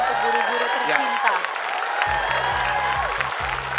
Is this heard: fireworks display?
no